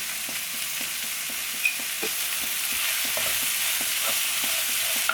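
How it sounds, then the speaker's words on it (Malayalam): Egg curry masala sizzles in a pan with salt while a spoon stirs and scrapes it in quick, regular strokes, close and continuous, with no voices. "ഇതെല്ലാം കൂടെ ഒന്ന് പെട്ടെന്ന് വഴറ്റിയെടുക്കാൻ വേണ്ടിയിട്ട് ഞാനിതിലേക്ക് കുറച്ച് ഉപ്പും കൂടി ചേർത്ത് കൊടുക്കുന്നുണ്ട്"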